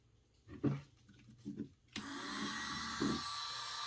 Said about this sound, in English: we're going to take our Dremel with a piece of Kratex on it